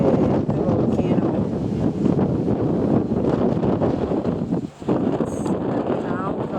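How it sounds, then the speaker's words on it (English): Strong wind at Laguna de Apoyo, a volcanic crater lake in Nicaragua, buffets the microphone in a continuous roaring rush, with gusty fluctuations throughout. "Windy out here yet."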